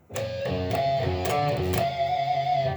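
An electric guitar phrase of picked notes that ends on a sustained, squealing pinched harmonic with a wavering vibrato, heard on its own without talking.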